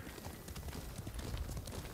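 Steady clip-clop of horse hooves at a quick, even trot in the video game Ghost of Tsushima, faint and continuous against a noisy background.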